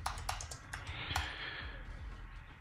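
Computer keyboard keys tap quickly and close up in a short burst of typing, the clicks loud at first and then trailing off.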